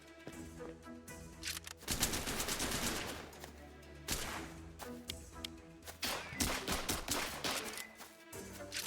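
Rapid automatic gunfire from the voxel video game Voxile, sustained bursts of shots repeating across the stretch with brief breaks, loud and dense against a layered game soundtrack.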